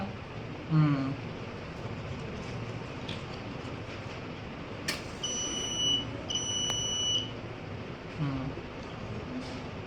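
A thin electronic fire alarm buzzer, triggered by a flame or IR sensor, beeps intermittently in the middle, faint under a steady hum and background noise, with a few brief vocal sounds around it.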